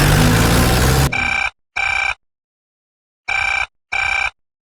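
A telephone rings in a crime drama scene: after a burst of loud noise come four short, bright electronic ring pulses, set in two pairs with a gap between them, heard alone and close.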